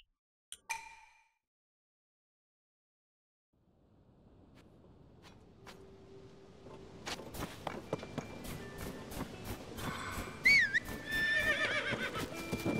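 In the video game The Legend of Zelda: Tears of the Kingdom, a horse whinnies briefly early on, then after a pause hoof clip-clops build into steady walking and running hoofbeats, with a shrill whinny near the end.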